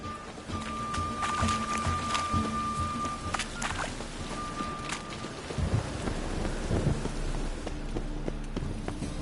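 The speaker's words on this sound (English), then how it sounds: "A storm, damn it." Steady rain with rumbling thunder from a thunderstorm in the video game The Witcher 3 on PS4, a continuous wash of noise with deep low rolls, a few sharper tonal game sounds overhead, and no talking.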